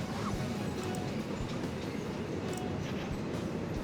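A freight train of tanker cars in the Conduct DELUXE train game gives a steady, dense rumble of rolling rail cars with faint clicking from the wheels. The sound is continuous and moderately loud, with no talking.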